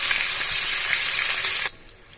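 Hilsa fish heads fry in hot oil with a loud, dense, close sizzle and crackle that runs steadily, then cuts off abruptly near the end.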